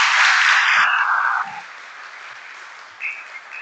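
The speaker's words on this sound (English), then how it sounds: "Big round of applause for him again," Audience applause at a Sunday feast gathering, a loud sustained round that fades after about a second and a half into a quieter room, with a brief swell near the end.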